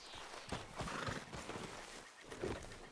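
A horse in the Red Dead Redemption 2 video game snorts and whinnies over soft hoof clip-clops, close and moderately loud, with several short bursts spread across the moment.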